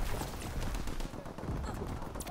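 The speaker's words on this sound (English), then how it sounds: "You just heard a shock grenade go off right there." Shock grenades going off in Call of Duty WW2, heard as a quick run of sharp, rattling bursts and crackles over a noisy battlefield background.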